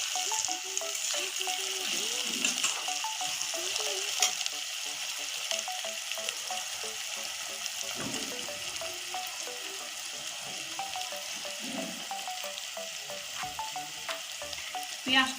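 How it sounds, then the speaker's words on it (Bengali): Chopped onions fry toward browning in a pan, a continuous close sizzle and crackle with occasional spatula scrapes and stirs throughout, and no talking. "এখন পেঁয়াজটা আমি লাল করে ভেজে দিচ্ছি"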